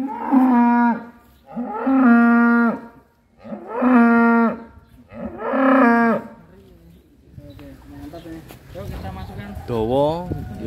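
Four long, loud moos from Simmental cross cattle, evenly spaced and close by, followed by a noisier stretch with voices and another lowing call at the end.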